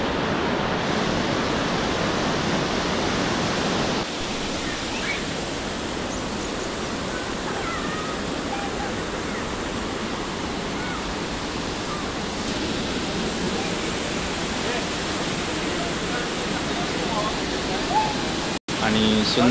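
Napne waterfall in the Konkan region near Vaibhavwadi: a broad, steady rushing roar of falling water that fills the whole scene without pause.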